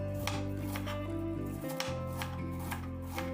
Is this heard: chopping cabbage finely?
yes